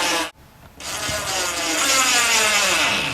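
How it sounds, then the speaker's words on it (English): A screwdriver drives small flathead screws into L brackets on a lazy susan cabinet, a close grinding, rubbing whir that starts after a brief pause and continues steadily. "We're going to use our 1/2" flathead screws just to secure our L brackets into place."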